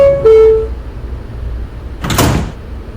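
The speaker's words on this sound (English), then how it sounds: "Stand clear of the closing door." An R160B K subway train at Herald Square sounds a two-tone door chime, then after a brief pause its doors slide shut with a loud rushing thump, heard from close by on board.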